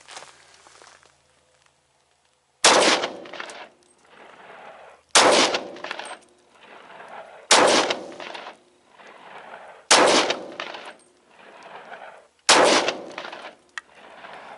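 Glock 31 Gen4 pistol firing 125 grain 357 SIG full metal jacket rounds: five loud, sharp gunshots evenly spaced about two and a half seconds apart, each with a short echoing tail outdoors.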